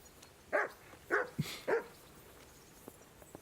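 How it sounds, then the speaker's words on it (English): Three quiet, evenly spaced dog barks from a dog in the video game Kingdom Come: Deliverance, fairly near, with a short low yip between the last two and a faint game ambience underneath. "And now we got a dog."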